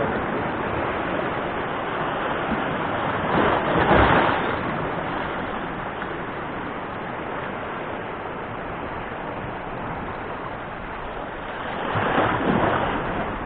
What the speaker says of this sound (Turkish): Deniz biraz dalgalı